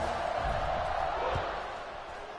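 A stadium crowd roars at a USF Bulls college football game just before the kickoff, a loud, continuous broad rumble of many voices. It swells briefly and then eases slightly toward the end.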